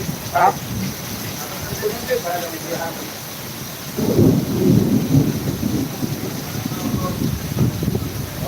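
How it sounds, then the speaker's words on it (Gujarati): Heavy monsoon rain roars without a break in Jam Khambhalia, and a deep thunder rumble swells midway and rolls on beneath the downpour. "ધોધમાર વરસાદ પડી રહ્યું છે"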